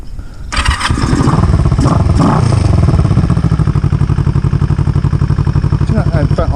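A Kawasaki EN450 bobber motorcycle engine catches and starts, then settles into a loud, close, lumpy idle with a steady rhythmic thump and mechanical clatter throughout.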